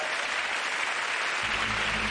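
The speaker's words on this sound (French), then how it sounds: "On peut applaudir Camille!" An audience applauds a magic act, a steady, dense wash of clapping that holds evenly throughout at moderate distance.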